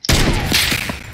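A single loud, close shotgun blast from the video game Fortnite, a sharp onset followed by a sustained, ringing burst of game effects lasting about a second.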